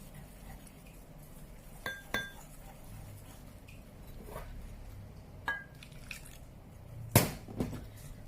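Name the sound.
stirring flour and salt water batter in a bowl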